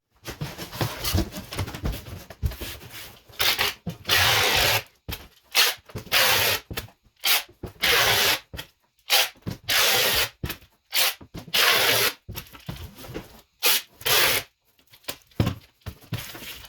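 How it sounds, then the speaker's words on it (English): Packing tape is pulled off the roll and pressed across the top of a cardboard shipping box for wheels and tires. Loud bursts of ripping and screeching come in an uneven run of strips, close up with no talking. "first thing we're going to do is we're going to tape the top here."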